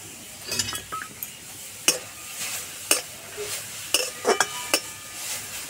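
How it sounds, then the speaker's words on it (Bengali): Grated coconut and grated carrot go into a wok and are stirred, giving a low sizzle broken by repeated sharp scrapes and clinks of the spoon against the pan, close and without talk. "এবার কড়াইয়ে দিয়ে দেব।"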